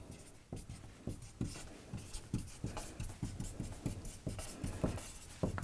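Chalk or marker writing out an equation on a classroom board, a steady run of short scratchy strokes and taps in an uneven rhythm, close and moderately quiet.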